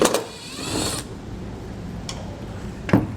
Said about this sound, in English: Now what we need to do is we need to take our screws out of our taillights.